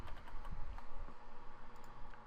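Keys tapping on a computer keyboard while search criteria are entered in Autodesk Inventor 2014, a steady run of soft, close clicks over a low background hum.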